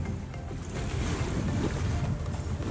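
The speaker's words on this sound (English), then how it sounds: "We are sailing." A sailboat moving at about 3.8 knots in light wind toward Norman Island in the British Virgin Islands, with a steady wash of water and wind noise rushing past the hull and no talking.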